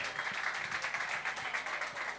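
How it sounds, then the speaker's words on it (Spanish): Audience applause at an underground freestyle rap battle session, a steady patter of many hands clapping at fairly low volume, continuous throughout with no voices over it. "Un aplauso para esas palabras, por favor."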